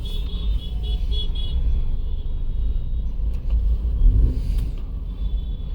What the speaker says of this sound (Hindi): आज तो बहुत ट्रैफिक है।